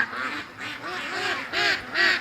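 Ducks shut back in their pen after a night predator scare quack in a run of about five loud, nasal calls, close by and unbroken by talk.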